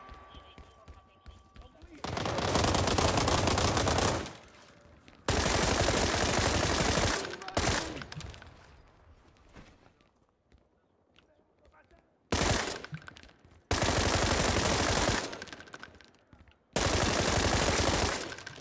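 Video game gunfire in World War 3 arrives as several long, loud bursts of rapid automatic shots separated by quieter gaps with some game noise.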